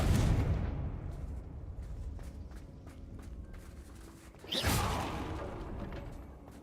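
Confringo fire spell in Hogwarts Legacy, cast in an abandoned cave area: a sharp whooshing blast bursts out near the end after quieter rumbling and faint footsteps, then fades into a lingering roar.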